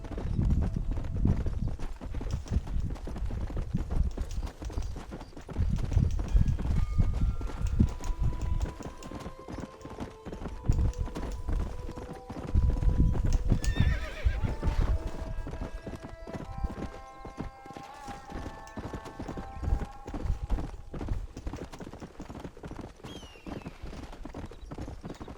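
Horse hooves clip-clopping at a steady trot in Red Dead Redemption, a continuous rhythmic patter close by, with a neigh-like whinny and tonal game music drifting in the middle, and no voices.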